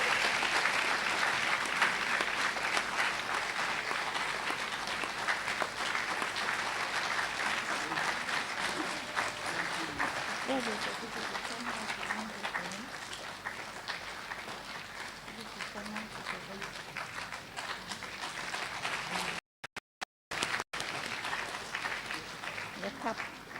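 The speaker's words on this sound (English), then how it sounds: "Please keep the applause coming." A crowd at a university ceremony applauds in a long, sustained wash of clapping, with faint voices and brief dropouts near the end.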